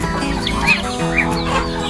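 Rhode Island Red chickens cluck and call at a farm coop on a morning, several short close clucks and chirps rising over a steady background hum, with no talk.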